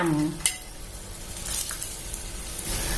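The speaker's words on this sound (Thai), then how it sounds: "ให้เพื่อนๆเปิดไฟแรงค่ะเขาจะหอมกลิ่นควันไฟนะคะ เมื่อเราผัดสักพักนะคะ" Noodles sizzle and scrape in a hot pan as they are stir-fried over high heat, a steady close frying hiss with a brief clatter of utensils near the start.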